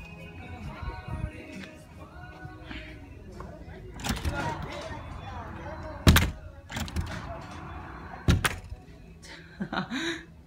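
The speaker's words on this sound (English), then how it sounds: "You record that door while I open this door over here." A door is pulled open in the woods with a few solid thunks and creaks, loud and close at moments, while people talk in the background.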